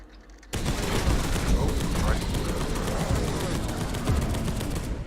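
Gunfire in the Warhammer game Space Hulk: Deathwing bursts in abruptly after a quiet moment, then rolls on as loud, sustained automatic fire with rapid overlapping shots.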